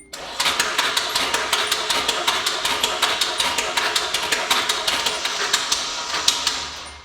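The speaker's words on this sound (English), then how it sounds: "Motor doesn't sound very healthy to me. There's obviously a metallic noise. It sounds like something is smacking." A Nissan 240SX engine cranks over loudly and rhythmically for several seconds without catching, each turn of the starter punctuated by a sharp metallic smacking knock.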